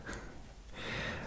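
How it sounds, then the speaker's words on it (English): A dog snores softly, a faint snorting breath that swells near the end, heard alone in a quiet room. "apologies if you hear snoring in the background, it's my dog"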